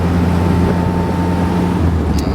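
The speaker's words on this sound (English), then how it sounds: "the engine just purring along" A 1954 Sunbeam Talbot Alpine Special Roadster engine runs at a steady, even hum, loud and close with a constant low drone and no talk over it.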